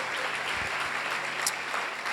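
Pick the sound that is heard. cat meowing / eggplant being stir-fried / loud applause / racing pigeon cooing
loud applause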